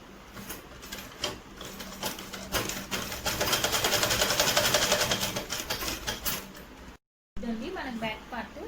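A sewing machine stitches a child's birthday frock with a rapid mechanical whir that swells in the middle and briefly cuts out before resuming, while someone talks over it.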